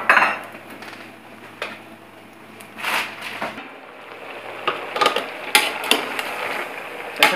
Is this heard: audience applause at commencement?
no